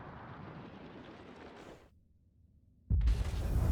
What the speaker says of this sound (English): Alright, so that's the sound of the supernova.